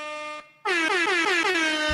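A loud blaring air horn sounds, cuts out briefly, then blasts again in a rapid pulsing series of honks.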